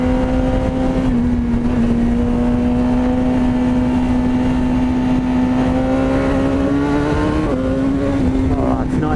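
A BMW S1000R motorcycle engine droning loudly and steadily while riding, holding a fairly constant pitch with a brief change near the end, under heavy wind rush.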